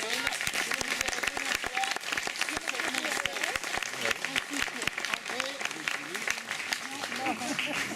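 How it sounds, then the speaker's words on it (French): A theatre audience applauds two actresses, a dense round of clapping with distinct sharp hand claps close by and voices murmuring underneath throughout. "je voudrais que l'on les applaudisse"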